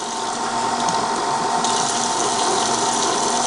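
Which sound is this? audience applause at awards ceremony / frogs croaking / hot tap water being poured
hot tap water being poured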